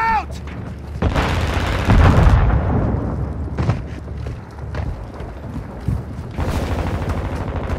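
A grenade goes off in Call of Duty Warzone with a deep, heavy boom and a lingering rumble, surrounded by gunfire, footsteps and other game noise, with a voice briefly heard.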